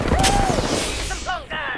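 Gunfire crackles and booms in the battle royale shooter Apex Legends, several shots over a short stretch mixed with whooshing effects and a brief in-game voice line.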